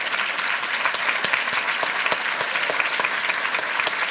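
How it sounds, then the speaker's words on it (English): Steady audience applause at a talk on the artist Romare Bearden, honoring the event's committee, dense clapping sustained evenly throughout with no voices over it. "They definitely deserve a round of applause for dealing with me."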